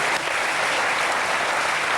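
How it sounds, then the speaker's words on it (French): Loud, dense applause from a studio audience on a French television show, a continuous close wash of clapping with no gaps. "je crois que ça mérite quelques applaudissements"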